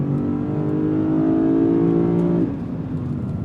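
A 2025 Lexus IS 500 with a naturally aspirated 5-liter engine pulls hard under acceleration, its strong droning tone climbing steadily before it drops abruptly to a lower, quieter running note as the throttle eases.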